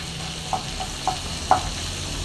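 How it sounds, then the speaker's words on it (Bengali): Onions sizzle quietly in hot oil together with vegetables as a few soft taps from a spoon mark the stirring. "পেঁয়াজগুলো ভালো করে সবজির মধ্যে দিয়ে ভালো করে ভাজবো"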